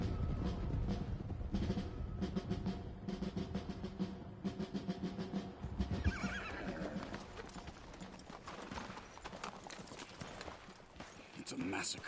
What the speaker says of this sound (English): It's really cool to see all the horses like these, the gang riding together.